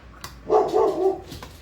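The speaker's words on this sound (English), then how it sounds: "And my dog is going to start barking." A single short dog bark, nearby and moderately loud, with a faint clink before it and quiet around it.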